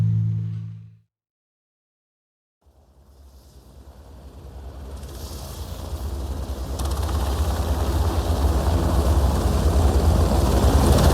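A helicopter in an audio drama war-zone scene: a brief tone cuts to silence, then rotor and engine noise fades in and swells to a loud, steady throbbing drone that holds to the end.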